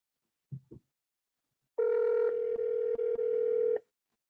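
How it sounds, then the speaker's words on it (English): A telephone being dialed to reach a caller: two short clicks, then a steady loud tone lasting about two seconds, broken by a few brief gaps, ending abruptly. "I'm trying to get this caller back on the line."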